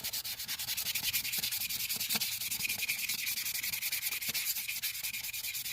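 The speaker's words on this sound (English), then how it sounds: "So quick wet sand with some 400" Steady, continuous wet sanding with 400 grit sandpaper across cracked clear coat, a close, even rasping rub with rhythmic strokes throughout and no talking.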